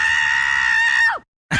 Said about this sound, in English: That sounds like the screaming goat.